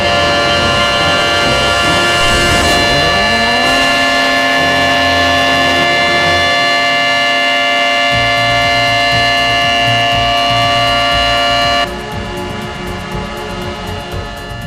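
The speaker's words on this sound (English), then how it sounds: "The Tx siren just went off." A civil defense siren in a Roblox video game winds up and wails loud and steady for several seconds, then continues on with background game noise.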